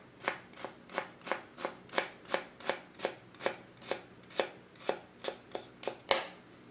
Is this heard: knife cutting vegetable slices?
yes